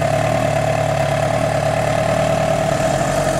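An iconic Kawasaki Ninja sport bike engine, being repaired, runs steadily at idle while warming up, giving a constant even drone with a firm mid-range hum and no speech.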